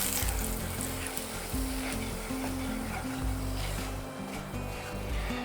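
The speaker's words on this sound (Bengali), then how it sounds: "এই তেলে ভেজে নেব গুঁড়ো করে রাখা মশলা" Ground spice mix fries in oil in a pan for a vegetable curry, giving a loud, steady, close sizzle that runs continuously, with a low background hum beneath it.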